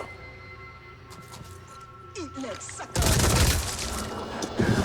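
Gunfire in the Phoenix Point game erupts into a loud, dense burst of shots partway through, following a quieter stretch of game ambience and effects.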